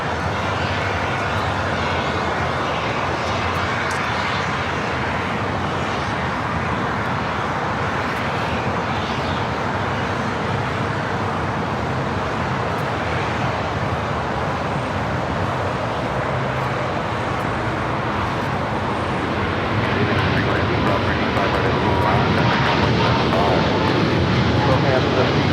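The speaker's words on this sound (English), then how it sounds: "China Cargo Airlines, the 777 freighter now rolling down" China Cargo Airlines Boeing 777 freighter rolling for takeoff on runway 25 Right at LAX, a broad, continuous jet roar that swells toward the end, with someone talking over it.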